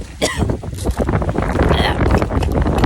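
Strong gusty wind buffeting close to the microphone, rumbling and roaring unevenly throughout.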